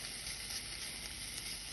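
King prawns sizzling in a hot pan for fried rice, a steady, dense hiss of frying, close and continuous with no pauses.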